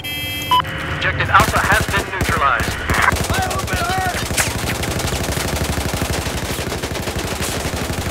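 Battlefield 4 gunfire on the Altai Range map: sustained rapid automatic shots rattle in a dense, steady stream after a few brief game effects at the start, loud and close.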